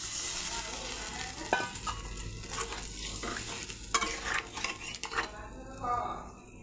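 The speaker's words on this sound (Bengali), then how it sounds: "গরম জল দিয়ে দিলাম।" Hot water goes into well-fried masala in a pan for a mocha kofta curry gravy, bringing a steady sizzle with repeated stirring scrapes and light metallic clinks of the spoon against the pan.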